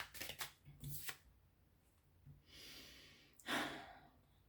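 Tarot cards shuffled by hand in a few quick riffling bursts, soft and close, with quiet breathy pauses between them and no talking.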